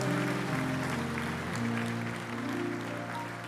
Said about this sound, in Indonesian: kasih tepuk tangan yang terbaik buat Tuhan Yesus